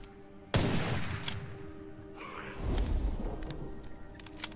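Rifle fire erupts in the dark fantasy shooter Witchfire, one loud burst followed by rumbling reverberation and a second muffled blast, with scattered clicks between.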